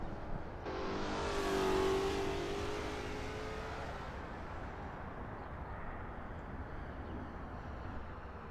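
A Lola T70 MkII Spyder race car at Riverside pushes hard through a qualifying lap in a racing game, its engine roaring loud and steady before easing into a sustained, slightly fading drone as it travels on.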